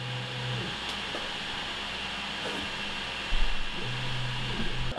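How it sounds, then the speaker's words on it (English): Steady broadband airflow whooshes from the exhaust of a Creality Halot Mage Pro 8K resin printer, a continuous fan-like hiss with a low hum and a slight rise in intensity near the end, no voices present. "You can see right here that it is indeed exhausting that air from inside the printer."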